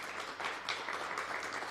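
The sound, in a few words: audience applause in aviation hangar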